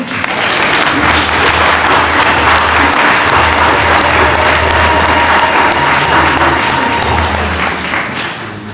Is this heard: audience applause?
yes